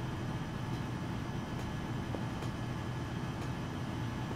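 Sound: train running in the video game Train Sim Pro USA

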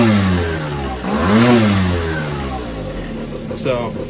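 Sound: motorcycle engine idling

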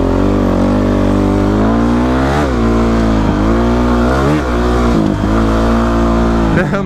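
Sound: motorcycle riding and revving

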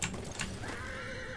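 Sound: horse neighing in Battlefield 1 video game

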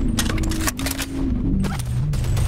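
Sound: gunfire from the video game Boneworks

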